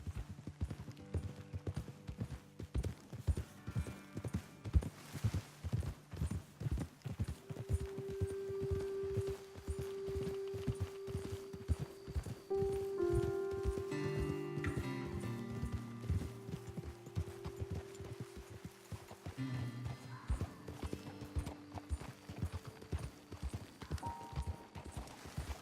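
Horses in Red Dead Redemption 2 clip-clop steadily along a trail, their hooves beating a fast, even rhythm throughout, loud and close, with some faint creaks and low game sounds but no talk.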